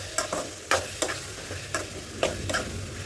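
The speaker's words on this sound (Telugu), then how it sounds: "ఇంక ఇప్పుడు దీన్ని కర్రీ అంతా కలుపుకుంటా." A spoon scrapes and stirs bitter gourd curry with tomatoes in a sizzling pan, giving sharp repeated strokes about every half second over a steady background fry.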